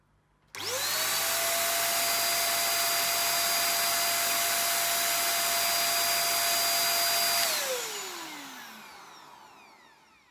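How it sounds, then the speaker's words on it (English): A CompuCleaner electric air duster blasts dust out of a filthy used gaming PC, a loud steady motorized whine and rushing air that holds for about seven seconds before the motor spins down and fades. "a quick clean with an air duster was in order beforehand"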